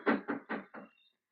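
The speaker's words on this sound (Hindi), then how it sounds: "दरवाजा ठोको।" Four firm knocks on the wooden door of a grandmother's village hut, evenly spaced and fairly loud, then quiet.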